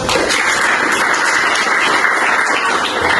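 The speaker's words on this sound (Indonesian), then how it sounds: "Tepuk tangan untuk kita semua." A classroom of students applauding at the end of a lesson, loud, dense and continuous clapping close by that holds steady for a few seconds.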